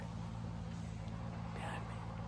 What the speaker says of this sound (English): y'all can hear there's a tractor